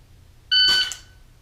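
A shot timer gives a single sharp electronic start beep, a clear steady tone lasting about a third of a second, close and loud over a low background hum, followed by a brief burst of noise.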